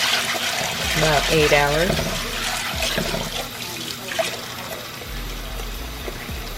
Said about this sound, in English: I'm going to add some water to soak them.